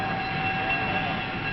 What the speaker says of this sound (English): Here's Bob's train all put together, ready for the passengers.